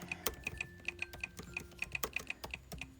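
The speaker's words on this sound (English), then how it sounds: "Type in my password." A password being typed on a Mac keyboard: quick, light, irregular key clicks close by, about a dozen taps over a few seconds in a quiet room.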